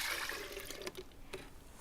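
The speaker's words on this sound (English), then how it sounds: "So 2 cups of orange juice, and just pour it in your pitcher here." Orange juice poured from a carton into a pitcher, a steady splashing liquid stream filling the container, close and moderately loud with no talking.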